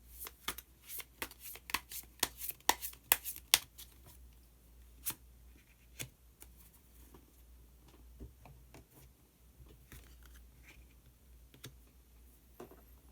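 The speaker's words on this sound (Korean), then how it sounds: "그러면 마지막으로 히든 카드 한 장 더 뽑아보도록 하겠습니다." Tarot cards are shuffled and drawn in a quiet room: rapid flicking riffles and taps at first, then sparser single clicks and soft slides as a card is pulled.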